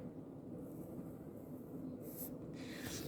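A pen or marker scratching a line across paper, quiet brief strokes near the end over faint room hum.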